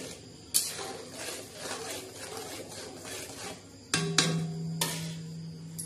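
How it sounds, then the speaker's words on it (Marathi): Ground masala paste stirred into oil in a pan for a dill and fresh peanut dish, soft scraping with sharp metal clinks of the spoon against the pan, near and fairly quiet. "तेलामध्ये आपला जो मसाला होता तो आपण टाकून दिला हलवून आणि छान असं तेलामध्ये ते परतणार आहे."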